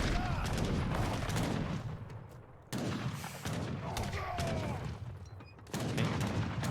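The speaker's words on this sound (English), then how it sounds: "Now we see the artillery." Artillery fire in a video game battle booms in dense, continuous volleys mixed with crackling gunfire, loud throughout with a few abrupt cuts and surges.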